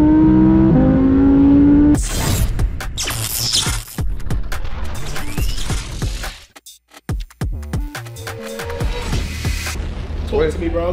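A twin-turbo Audi R8 of about 1000 horsepower, fitted with a huge aftermarket exhaust, blasts with loud, close revs and sharp pops. Between bursts there are brief near-silent gaps, and someone speaks over part of it.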